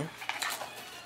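Forever Sharp steak knives clink and scrape against each other as they are handled, giving a few light, close metallic taps over about a second.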